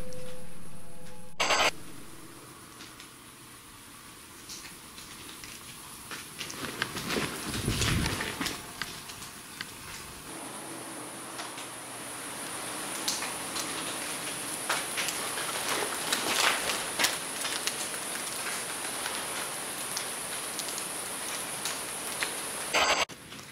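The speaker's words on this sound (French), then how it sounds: "c'est simplement la pluie." Rain falling around outdoor ruins at night, a steady wash of patter with scattered sharp ticks that could pass for footsteps, moderately loud and continuous with no voices.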